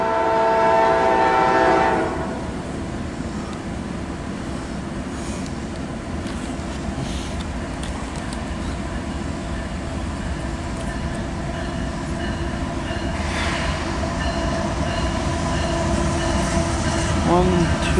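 CSX Q416 mixed freight train running westbound with six-axle locomotives: a loud blast of the horn opens, then the heavy, steady rumble and rattle of cars rolling past continues for many seconds.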